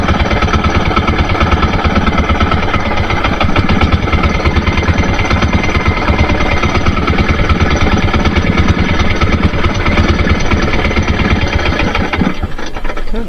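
A boat engine runs loud and close, a steady rapid knocking chug that continues throughout and falters briefly near the end.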